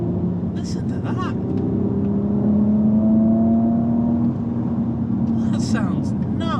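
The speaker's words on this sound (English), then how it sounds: "Now we're going to drive the SE Hybrid, see what this V6 is like." Porsche Cayenne S E-Hybrid V6 engine drones steadily while driving, its pitch rising and holding as the car accelerates, with someone talking over it at the start and end.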